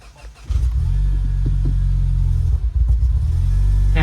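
A Mini Cooper S engine starts after a fuel pump replacement. A short crank leads into a steady, loud idle rumble that continues to the end.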